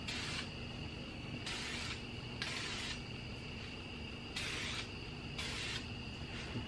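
A spray can hisses in short, even bursts as a light first coat of paint goes onto car brake calipers, five or six quiet passes separated by brief pauses.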